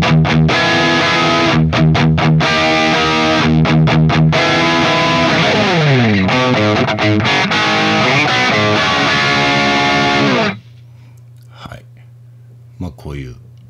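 Distorted electric guitar riffs and sustained chords through the Neural Amp Modeler VST plugin play loudly for about ten seconds, then cut out, leaving faint hum and a few clicks.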